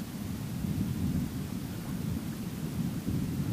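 Strong wind buffeting a microphone at a fishing dam, a loud, continuous low roar with gusty surges and no voices.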